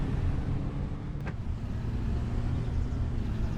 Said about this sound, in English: Got it all fired up again, and we're just gonna make our way back to Mason's horse barn